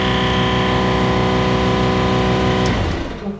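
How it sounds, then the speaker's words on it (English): A gasoline-powered air compressor engine runs loud and steady at close range, its even buzzing drone filling the space. Near the end the engine cuts off and the drone fades. "Now that I got the engine turning a little bit"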